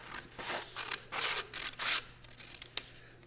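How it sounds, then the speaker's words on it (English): Scissors cut a folded paper square along its crease, with several close, crisp snipping and slicing strokes in a steady rhythm, then a few lighter clicks of the blades, quiet and alone. "You're going to take your scissors and you're going to cut across the crease"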